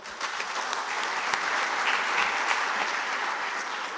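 An audience at a talk on Ambedkarism applauds, a dense and steady clapping that holds at an even level for the whole stretch, with no voices over it.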